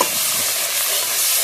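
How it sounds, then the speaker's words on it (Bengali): A spatula stirring in a pan of frying spices for an egg curry, giving a loud, continuous close-up sizzle with a brief scrape at the start and no voices. "খুন্তি নাড়া।"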